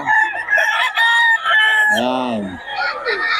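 Chickens and roosters at a busy poultry market in Bocaue, loud and close, with a rooster crowing and repeated clucking and squawks in overlapping bursts.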